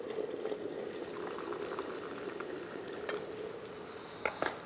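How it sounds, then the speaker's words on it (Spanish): Water boils in a pot, a steady close bubbling hiss that continues evenly, with a couple of brief clicks near the end. "aquí tengo el agua hirviendo para comenzar con el relleno"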